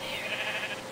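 Sheep bleating in the video game Minecraft, a steady, fairly loud bleat that fills the short moment with no talk over it.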